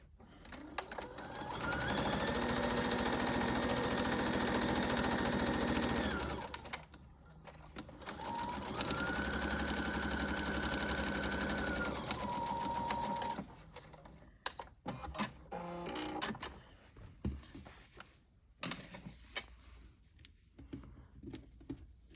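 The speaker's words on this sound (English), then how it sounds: "we're going to go back and do a 1/4 inch top stitch across the top there" Sewing machine running a quarter-inch top stitch along the top of a fabric book sleeve, in two steady whirring bursts of several seconds each, then fainter handling clicks and rustles.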